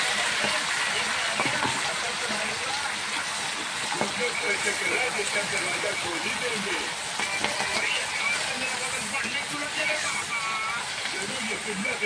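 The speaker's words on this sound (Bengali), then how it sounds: "তেল গরম হয়ে গেছে, এখন আমি পুঁইশাকগুলো দিয়ে দিচ্ছি।" Malabar spinach dropped into hot oil gives a steady, dense sizzle and crackle that runs unbroken throughout, fairly close and even in loudness.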